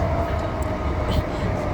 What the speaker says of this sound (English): oh, there's the freight train